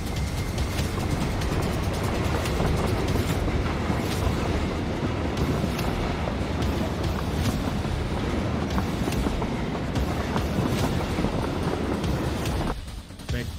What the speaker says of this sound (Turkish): Tren geliyor bu arada. Çok yaklaştı.